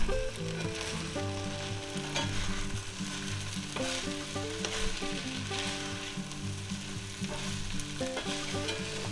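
Vegan burrito filling sizzles and fries in a pan as it is stirred, a steady crackling hiss under a continuous layer of background music, with no talking.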